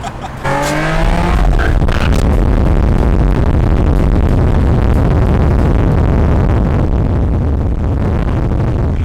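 A Nissan 370Z with a throttle body spacer races a BMW M2, giving loud, sustained engine roar and road noise that holds steady for the whole stretch after a short quieter opening.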